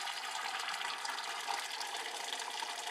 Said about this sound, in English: I've got some boiling water from the kettle, and I'll pour that down the middle.